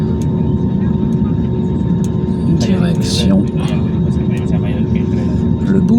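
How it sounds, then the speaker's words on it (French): Airplane engines hum in a steady, loud drone from inside the cabin as the plane taxis at night on the runway at Istanbul, with someone speaking over the noise. "mon avion pour Oman au Moyen-Orient bouge d'Istanbul"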